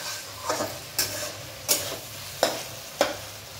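Chicken marinated with lemon and black pepper frying in a pan, stirred in five distinct scraping strokes roughly every half second to second, each sharp clack over a continuous soft sizzle, close and clear with no talk.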